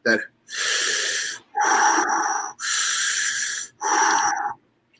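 A man breathes heavily through his mouth in imitation of snorkel breathing, four long rasping in-and-out breaths in a steady rhythm, close and loud.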